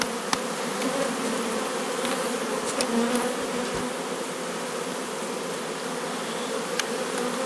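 Honey bees buzz steadily around hive frames lifted from a colony for a split, a dense, continuous drone filling the air up close with a few louder passes of individual bees.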